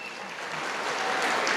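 Audience applause at a Tamil pattimandram debate speech in Hosur: a steady wash of clapping from a crowd that swells slightly and holds at moderate level, with no voices over it.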